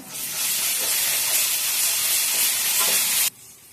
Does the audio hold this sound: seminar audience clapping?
no